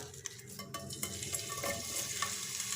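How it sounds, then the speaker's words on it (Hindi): Sliced onion is fried and stirred in a pan for a chicken curry. A soft, steady sizzle runs throughout, close and faint, with occasional scraping clicks of a spoon against the pan. "पहले सफ़ेद वाला हिस्सा फ्राई करेंगे कि हल्का सा गुलाबी माइल सा हो जाए"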